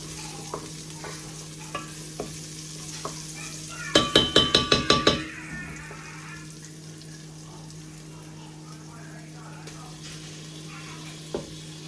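Chopped onion with a little garlic powder sizzles quietly in a frying pan for biryani, and a quick run of sharp scraping clicks from stirring breaks in midway before the gentle frying continues alone.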